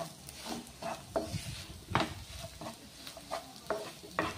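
Green ground masala being sautéed for dhaba-style dum aloo, with a spoon scraping and stirring the pan in repeated strokes over a soft, steady sizzle, close by and without talk.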